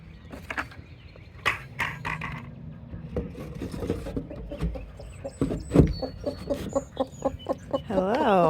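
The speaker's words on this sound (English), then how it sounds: "This hen has been broody for a couple of days." A broody hen clucks and grumbles close by in a coop, giving repeated short, throaty clucks and low croaking calls, with other chickens and a person's voice mixed in at times.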